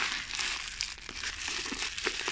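Wrapping paper crinkles and crumples steadily as a wrapped gift mug is unwrapped up close, with a few sharper tearing crackles near the end and no talk.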